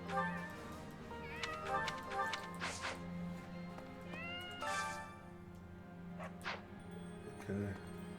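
A cat meows several times in Fire Emblem: Three Houses, clear mewing calls rising over steady background game music, with some gaps between the cries.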